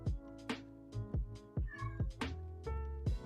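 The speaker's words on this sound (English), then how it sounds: "Lazy cat." A cat meows repeatedly, about eight short insistent calls in an irregular rhythm, close and clear with nothing else over them.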